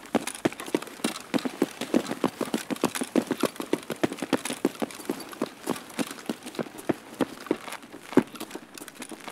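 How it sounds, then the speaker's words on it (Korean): Rapid footsteps in a first-person shooter game, a quick, steady run of sharp thuds and crunches close by, continuing evenly for several seconds with no talk over them. "발소리."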